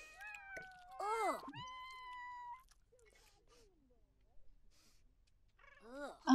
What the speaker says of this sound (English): we have a lot of cats eating cake right here